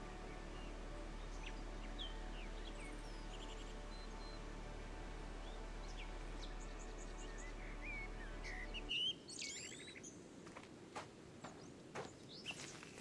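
Birdsong and insect buzz along a forest path in a video game. Scattered chirps and tweets sound over a soft, steady rushing breeze. Partway through, the background hum drops away and the calls stand out more clearly.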